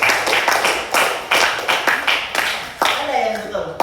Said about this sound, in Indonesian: Kasih aplaus buat temennya